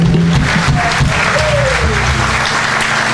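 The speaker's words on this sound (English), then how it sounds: "let's give them a hand." A church congregation claps for first-time guests: dense, steady applause filling the room for a few seconds, loud and close, with faint voices mixed underneath.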